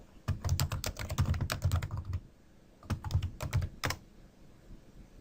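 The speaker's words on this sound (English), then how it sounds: "I will begin by typing stem cell research into the search box." Rapid clicking keystrokes on a computer keyboard while entering a search query, two bursts of steady typing separated by a brief pause, close and clear with no voices.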